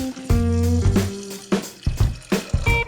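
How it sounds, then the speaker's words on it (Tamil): Water is poured into a pressure cooker holding soaked green peas, giving a short run of splashing and filling sounds with a few tonal clinks from the pot, close and clear. "அந்த பட்டாணி வேகிறதுக்கு தேவையான அளவு தண்ணி"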